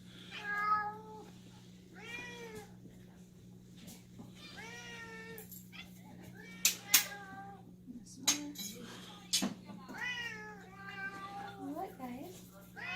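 Several house cats meow in overlapping calls, fairly close, while someone speaks to them at intervals over a steady low hum, with a few light clinks of dishes.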